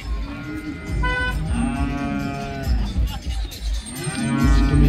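Water buffalo at a cattle market in Modnimb lowing in several long, loud, drawn-out moos that overlap with background market noise.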